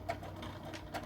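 A sewing machine back stitches a fabric tablet sleeve, producing a steady close mechanical whir with rhythmic needle clatter that runs the whole time without speech.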